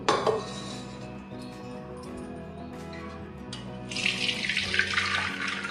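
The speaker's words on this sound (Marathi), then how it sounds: "डाळीतलं पाणी भांड्यात पडतंय चाळणीतून" Water from cooked lentils drains through a sieve into a pot, a continuous pouring splash that grows brighter and louder toward the end, with faint clinks of utensils and no talk.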